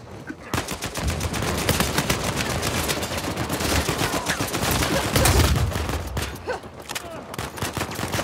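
Dense, continuous gunfire from several weapons fills Uncharted 4 multiplayer team deathmatch on the Madagascar map, rapid automatic bursts overlapping almost without pause, loud and sustained.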